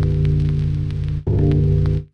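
Reason Grain synthesizer sample played an octave lower gives a deep, buzzy sustained tone, struck twice with a short dip between notes, loud and close with no voices.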